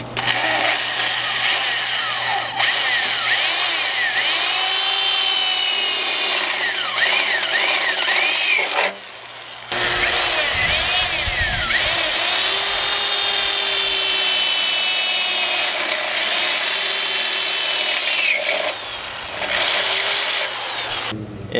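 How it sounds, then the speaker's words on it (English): Power drill boring two holes into a car's radiator support, a loud close whining drone with rising and falling pitch, a brief pause near the middle, then a second sustained bout of drilling. "So we're just gonna send it and drill two holes and see how it goes."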